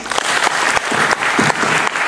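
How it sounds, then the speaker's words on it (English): A TEDx talk audience claps with whole hands, loud and dense, with uneven surges of crowd clapping filling the whole stretch. "I want you all to take your left hand and your right pointer finger and clap"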